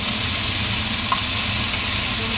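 Bacon frying in hot oil in a pot for an Okinawan-style feijoada gives a steady, close, loud sizzle with a dense crackling hiss that runs unbroken throughout, with no talking.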